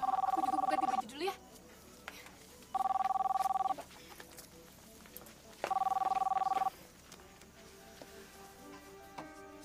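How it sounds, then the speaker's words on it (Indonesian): Telephone ringing indoors: three evenly spaced bursts of trilling electronic bells, each about a second long with quiet gaps between, fairly loud and near, followed by faint background sounds. "Pak, ada suara telepon, Pak."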